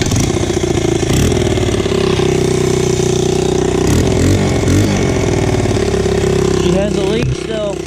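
A motorcycle engine runs loud and close with a leaking exhaust, idling in a steady ticking drone with a few quick blips of throttle, while a voice speaks over it.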